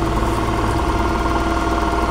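Steady whirring hum from the ACG starter of a Yamaha NMAX scooter whose engine does not turn over, holding an even level for the whole stretch with no talking.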